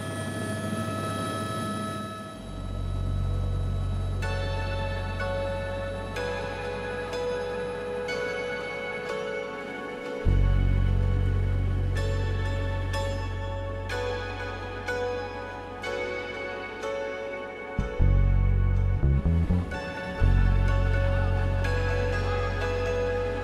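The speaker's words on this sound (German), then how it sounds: "Vom Flughafen Kathmandu aus geht es in einem einstündigen Flug mit dem Helikopter ins Khumbu," Helicopter on an hour-long flight from Kathmandu airport into the Khumbu region near Everest, heard as a steady, loud low rotor and engine drone that runs throughout with tonal layers above it.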